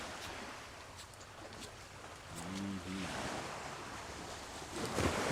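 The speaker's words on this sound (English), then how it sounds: "I know we had flat water, but a boat just went by." Waves from a passing boat's wake lapping at the water's edge on Cedar Creek in the evening, with wind noise and a low, rising wash of water that grows louder toward the end.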